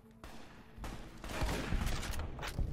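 Shotgun fire in Fallout: New Vegas during combat: a quick cluster of loud, booming blasts overlapping in a short burst, close and harsh, with no voices.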